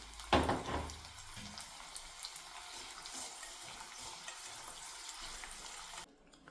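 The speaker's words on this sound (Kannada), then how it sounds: "ಇದೇ ಥರನೇ ಎಲ್ಲ ಇಟ್ಕಿಂಬೇಳೆನೂ ಫ್ರೈ ಮಾಡ್ಕೊಳ್ಳಿ ನೀಟಾಗಿ." Field beans frying in hot oil, a loud splash and burst of sizzle as they hit the pan, then a steady bubbling fry with faint stirring until it cuts off.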